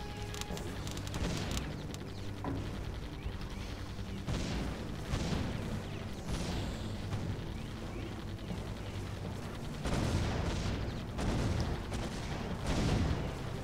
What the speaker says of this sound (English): That's what a cannon's made for.